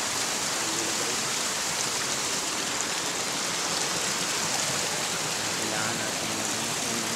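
Dense, steady rush of a mountain river flowing high on a hillside, a constant broadband hiss of churning water close by with no breaks, and a voice faintly under it.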